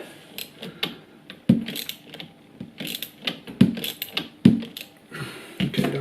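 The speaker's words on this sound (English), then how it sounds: "So now I'm just going to open up the bolt." Bolt being undone on a gear change mechanism, a series of close clicking, ratcheting metallic clacks and scrapes in irregular bursts with brief pauses between them.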